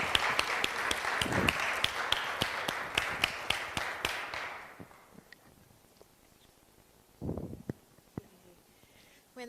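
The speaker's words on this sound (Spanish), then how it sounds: "Un fuerte aplauso para Fiorella" A church congregation claps for a woman called to the front: brisk, fairly loud applause fades after a few seconds into a quiet room with scattered taps and one short burst of noise.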